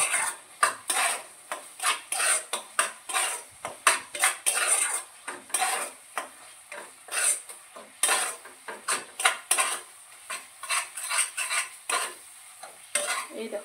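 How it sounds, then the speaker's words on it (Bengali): Spiced masala being sautéed in a pan for curd-based katla fish curry, with a utensil scraping and clattering against the pan in a steady, busy rhythm of close, fairly loud strokes, with no talk. "তো চলো মশলাটা ভালো করে কষিয়ে নিই।"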